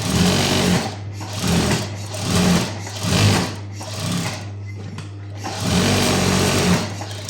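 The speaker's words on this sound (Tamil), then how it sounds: "இப்போ லைனிங் ப்ளவுஸ் பிட்டில் வச்சு அட்டாச் பண்ணி முடிச்சாச்சு" A sewing machine stitches a lining onto a blouse front in several loud, close bursts of rapid needle chatter, separated by short pauses.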